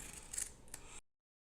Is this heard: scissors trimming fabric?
yes